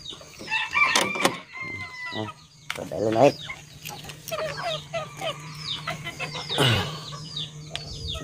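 Backyard chickens on a Filipino farm, roosters crowing and hens clucking close by in repeated bursts, with a person speaking briefly between the calls.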